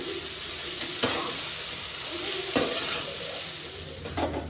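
Chicken noodles stirred and fried over a high flame give a continuous hissing sizzle, broken by a few louder utensil strokes against the pan at intervals.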